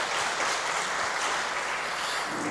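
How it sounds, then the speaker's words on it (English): Audience applause fills a poetry and book review competition at Elangeni TVET College, a steady, dense clapping from a crowd that holds at full strength throughout without any voices on top. "can we please give ourselves a big round of applause that we are here?"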